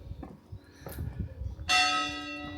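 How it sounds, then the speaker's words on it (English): Church bells in Prezza, Italy: after a low, muffled outdoor background, a loud bell strike rings out with a long, bright, sustained resonant decay. "we've got the church bells"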